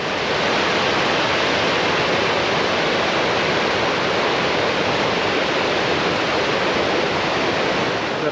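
Steady broadband rush of Cascade Creek's flowing water on a hiking trail near Jenny Lake, loud and continuous throughout with no talking.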